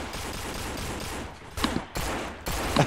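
Rapid gunfire bursts in the zombie shooter game No More Room In Hell crackle over a noisy background, with several sharp volleys packed into the last second and a half.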